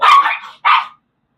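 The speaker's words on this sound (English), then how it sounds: "Sorry, my dogs are fighting." A beagle and a Chihuahua scuffle, giving two close, loud bursts of barking and yipping with a short break between them.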